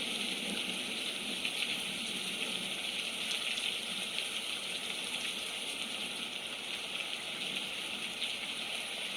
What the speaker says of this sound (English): But then when you hear that rain